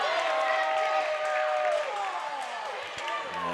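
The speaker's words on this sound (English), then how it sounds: "And Sulphur crowd does not necessarily agree with that." Basketball arena crowd at a girls' tournament game, loud and continuous with a swelling roar of reaction to a referee's call. An announcer's voice talks over the noise.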